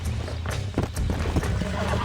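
Horse hooves clopping in a Red Dead Redemption wild-horse taming scene, a busy run of uneven thuds and scuffs over steady game ambience with faint background sound.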